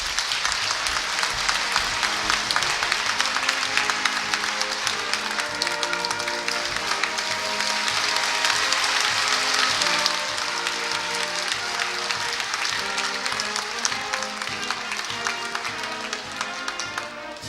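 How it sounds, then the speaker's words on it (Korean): Applause fills a hall at the Korea University president's inauguration ceremony as a golden key is handed over. Thick, even clapping from a large audience carries on for over 17 seconds without a break. "힘찬 박수 부탁드리겠습니다."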